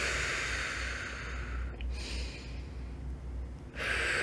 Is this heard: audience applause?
no